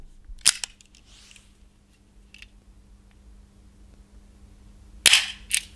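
Sharp, loud shotgun blasts firing buckshot from an over-under shotgun crack out, one pair near the start and another burst near the end, with quiet hum in between.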